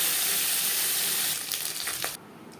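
Small mourola fish frying in hot oil in a wok, a steady close hiss and sizzle that softens partway through and then drops sharply quieter near the end, with no voices.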